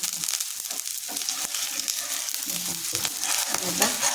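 Thalipeeth, a flat spiced flatbread, crackles and sizzles steadily in oil on a pan, a dense continuous hiss with small pops throughout and no voices.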